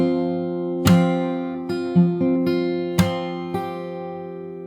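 Fingerstyle guitar plays two combined parts of a song, with a steady run of about six sharp plucked attacks over ringing chord tones. It is close and clear, with no voices.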